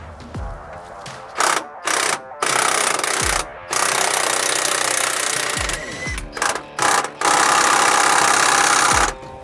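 An impact wrench loosening bolts fires in repeated short bursts and longer rattling runs, loud and close, with brief pauses between hammering blasts.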